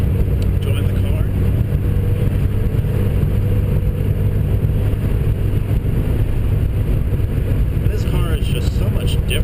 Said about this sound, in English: doing a little driving with the windows down, enjoying the weather, enjoying the car